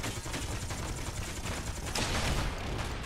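Weapons fire in a space combat video game, a dense burst of rapid shots and crackling blasts packed into a few seconds, loud and continuous with a brief swell near the end.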